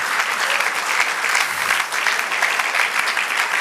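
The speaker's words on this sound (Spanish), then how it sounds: "aplauso al Señor." A church congregation applauds during a Spanish-language sermon, a loud, dense and steady wash of clapping from many people throughout.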